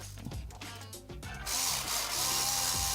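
Screws being driven with Loctite into an ARRMA Talion V3 RC car with GKA upgrades, giving a close, steady mechanical ratcheting whir that grows louder and denser midway, with no talk.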